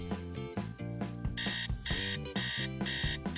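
An alarm clock rings in repeated bursts, a bright electronic tone pulsing in a steady rhythm over a musical background, with no talking.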